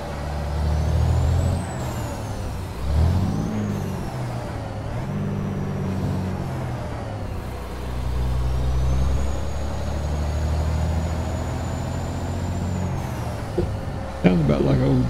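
W990 heavy haul truck in American Truck Simulator, engine droning loud and close with a rising and falling turbo whine and a sharp air-brake hiss near the end, while someone talks over it.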